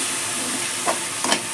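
Tomato masala fries in a pan with a steady hiss close by, and two short scraping stirs break through the sizzle.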